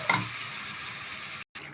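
Meat fries in a pan while it is browned toward a dark, well-cooked state, giving a loud, steady, hissing sizzle that carries on without a break and drops out for a moment near the end.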